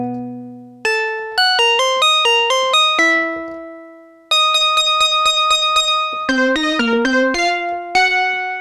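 A Moog Minimoog Voyager synthesizer plays a line of clear, bright pitched notes, with some quick repeated runs and a few held tones. The notes ring out close and alone, with no speech.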